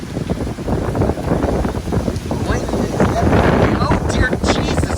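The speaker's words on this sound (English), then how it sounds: "That is the biggest gust I've felt outside, at least." Strong hurricane wind gust from Hurricane Ian in Tampa, Florida, roaring broadband and steady for the whole stretch with rising intensity toward the end, buffeting the microphone while a voice speaks over it.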